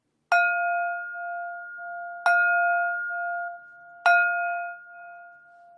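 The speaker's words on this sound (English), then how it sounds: "So here comes third bell." A bell struck three times at even intervals, each ring clear and sustained with a bright tone, decaying slowly before the next strike; no talking.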